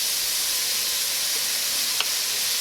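Onions with a pinch of salt sizzle steadily in a hot pan, a soft continuous hiss with one brief crackle near the end and no voices.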